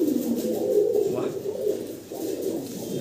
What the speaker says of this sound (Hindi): फर्स्ट टाइम इतना अच्छा क्वालिटी का कबूतर देख रहे हैं